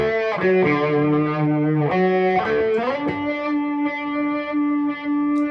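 Electric guitar through a rotary-style effect pedal rings out loud and sustained, with a swirling, wavering modulation coloring the tone as a short phrase is played.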